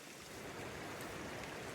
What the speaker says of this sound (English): And that's a nice river sound.